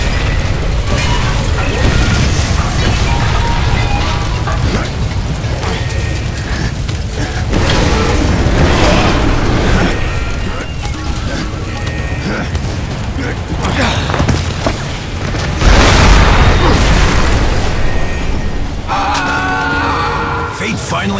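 Loud explosions and booming blasts in the video game Bulletstorm, with rumbling bursts and mechanical clatter, layered under voices and game effects throughout.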